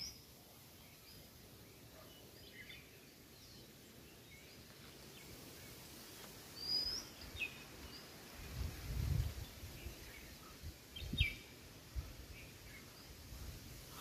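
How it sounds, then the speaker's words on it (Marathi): Scattered bird chirps and calls ring out faintly across quiet rural Konkan paddy fields, with soft rustling and occasional low thumps beneath a hushed open-air background. "हा निसर्ग आणि पक्ष्यांचा आवाज"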